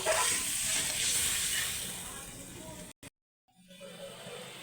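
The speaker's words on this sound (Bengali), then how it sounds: "জলটা ফুটে গেছে" Water coming to a boil in a pan for a parshe fish jhal curry, a steady close hiss that drops out briefly midway, then picks up again more quietly.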